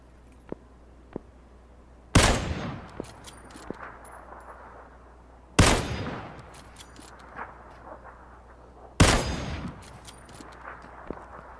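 Three heavy gunshots from a video game ring out at wide intervals, each a sharp loud blast that trails off into a decaying echo, with faint clicks and small game noises in between.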